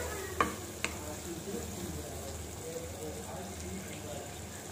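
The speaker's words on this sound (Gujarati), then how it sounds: "હવે ગેસની ફ્લેમ થોડી ફાસ્ટ કરીશું જેથી કાંદા ફટાફટ ચડી જાય." Onions cooking in a turmeric-spiced masala for palak masala dosa sizzle steadily over a gas flame turned up high, with a couple of sharp utensil knocks near the start and a soft frying hiss throughout.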